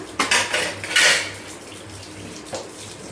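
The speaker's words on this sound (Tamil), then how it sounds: "கத்தியெல்லாம் கழுவி எடுத்துடலாம்" Knives rinsed under running water after fish cleaning, with metal blades clinking and clattering against a vessel over a light trickle, close by and without speech.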